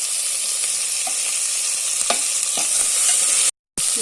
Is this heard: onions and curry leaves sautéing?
yes